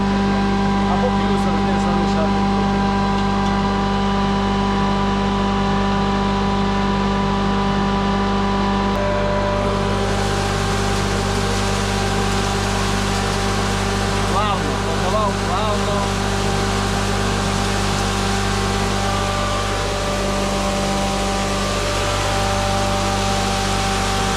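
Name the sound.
Kraft 4 grain crusher motor running under load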